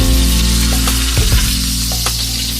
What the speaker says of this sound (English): We're braising potatoes right now.